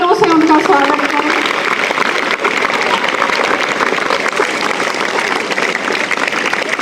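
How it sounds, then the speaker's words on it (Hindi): Loud, sustained applause from a school crowd at an Independence Day event welcoming former student Akashdeep; a voice talks briefly at the start before the clapping fills the whole stretch. "बेटा जोरदार तालियों से उनका स्वागत करें।"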